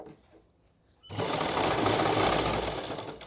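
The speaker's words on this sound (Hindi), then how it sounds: "किनारे पे सिलाई लगा रही हूँ मैं।" A sewing machine runs a steady, loud stitch along the edge of a salwar hem, starting abruptly after a quiet moment and continuing without pause.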